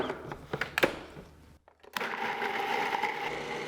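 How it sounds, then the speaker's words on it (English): A blender whirs in short bursts through vegan queso fresco ingredients, pauses briefly, then runs in a steady continuous grind. "Add everything in a food processor or a blender and blend until you get a smooth consistency."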